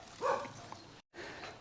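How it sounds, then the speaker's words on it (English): Dogs bark in the background outdoors, a short muffled burst of barking over steady ambient noise, fairly distant and brief. "Now I'm sorry about the dogs in the background"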